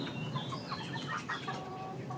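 Hens clucking softly in a backyard flock, scattered short clucks and faint calls that stay quiet and fairly distant.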